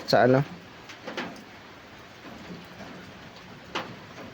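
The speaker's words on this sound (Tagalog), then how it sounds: "pasensya na medyo maingay kasi umuulan" Soft, steady rain hisses in the background while a few brief knocks and a short voice burst break through.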